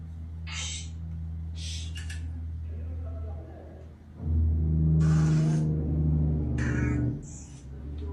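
Trucks rumble past on a nearby road in a low, continuous drone that swells midway, while people talk intermittently over it.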